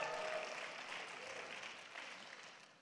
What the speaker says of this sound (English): I'm getting some golf claps on that